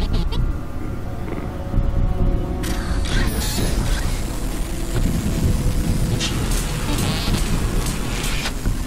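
Grinding metal mechanisms creak and ratchet steadily as robot Jack rips at a sealed door in Gears of War 2, a continuous loud mechanical churn over low rumble, with a voice briefly heard in the mix.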